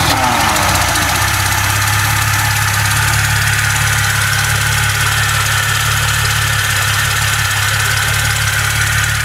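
A Mercedes W113 Pagode 280SL idles after a cold start, a steady, loud engine drone with a low rumble and a hissing intake suction noise from the air filter, continuous and close, with no talk.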